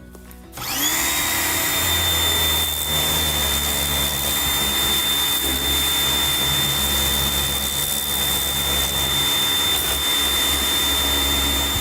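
A John Deere tractor is washed down with a water spray, a loud, steady, close mechanical roar with a sustained whine that starts abruptly and runs unbroken throughout.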